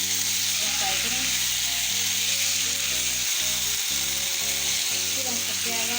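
Chicken keema for a piazi chicken keema frying in a pan, giving a loud, steady sizzle and crackle that holds throughout, with faint tonal sounds underneath.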